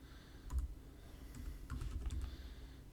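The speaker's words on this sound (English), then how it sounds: "I'm going to type out Phosphate." Keystrokes tap out a short word on a computer keyboard, a few quick clicks clustered near the start and again past the middle over a low room hum, close and fairly quiet with no talking.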